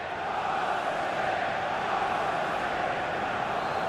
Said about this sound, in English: an ooh from the crowd